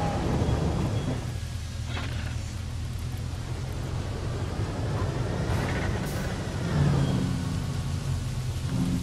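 A thunderstorm in the video game Jurassic World Evolution brings continuous heavy rain with low rolling thunder rumbles, a steady dense wash of sound with swells around the middle and end.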